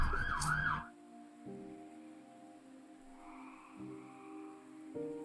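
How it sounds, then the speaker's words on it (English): Emergency sirens pass by outside, faint and distant, with a steady low wail running through the clip under a brief opening sound. "Enjoy the sounds of the sirens going by."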